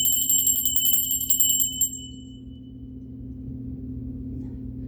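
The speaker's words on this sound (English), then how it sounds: "We're going to ring the bell." A bell rung once rings out with a bright metallic tone that sustains for about two seconds and fades, over a steady low hum.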